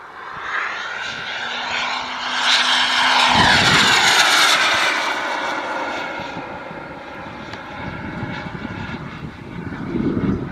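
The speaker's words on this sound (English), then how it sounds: "I apologize for not getting tight shots of this jet, folks, but it's going so fast." A Ranger jet from Boomerang Jets makes a fast low pass at the Warbirds and Classics Over Fredericksburg 2024 airshow. Its loud engine roar swells and then recedes, with a steady, broad rushing noise and no talk.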